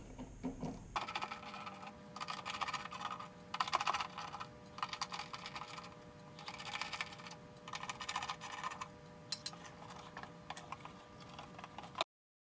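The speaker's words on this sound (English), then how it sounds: "First thing I'm going to do is use a T20 Torx to remove the ballast." A T20 Torx driver works on a Porsche Cayenne headlamp ballast, producing quiet, close clicking and ratcheting taps in irregular bursts over a steady low background hum.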